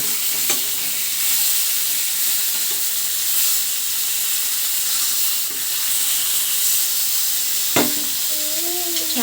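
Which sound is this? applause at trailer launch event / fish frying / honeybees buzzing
fish frying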